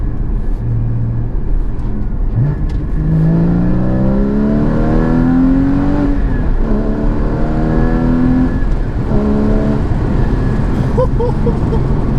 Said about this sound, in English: Just listen to these downshifts.